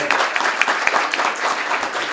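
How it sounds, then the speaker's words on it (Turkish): Guests at a civil wedding ceremony applaud the groom, a dense, steady burst of many hands clapping in a room, loud and continuous. "Alkışlıyoruz damat beyle"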